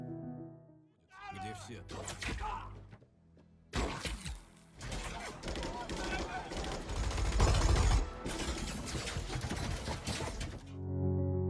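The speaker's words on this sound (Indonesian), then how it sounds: "Di tengah suara tembakan mesin itu" Bursts of rapid machine-gun fire and crashing impacts in a war film scene fill most of the stretch, loud and dense, with a brief quieter gap before a sustained barrage.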